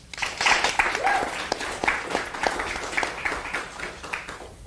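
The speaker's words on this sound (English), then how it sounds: "Please give a warm round of applause for Summer Lee." At a congressional district candidate forum in Pittsburgh, an audience gives a warm round of applause, with steady clapping, a few louder individual claps and a faint vocal whoop, easing off toward the end.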